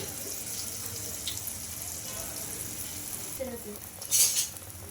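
Coconut pongadalu batter frying in hot oil, a steady soft sizzle throughout with a brief louder hiss of bubbling near the end, no talking.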